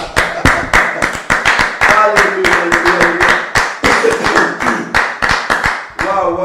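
Church congregation clapping and applauding in praise, with dense, irregular hand claps running throughout, loud and close, mixed with voices and speech.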